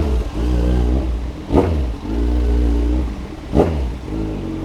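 Kawasaki Z1000 motorcycle engine revving hard twice in close succession, each sharp blip rising over a steady, rumbling idle, loud and close with no talking.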